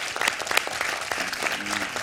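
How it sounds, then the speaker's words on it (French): Studio audience of a French quiz show applauding, a brief burst of dense, even clapping that fills the whole moment, with a faint voice underneath. "Est-ce qu'on peut applaudir ces propositions, s'il vous plaît?"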